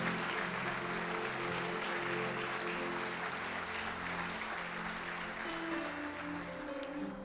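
A church congregation applauds in a steady, dense wash of clapping that holds for several seconds, with sustained musical tones underneath.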